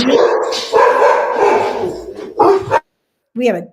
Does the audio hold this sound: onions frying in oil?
no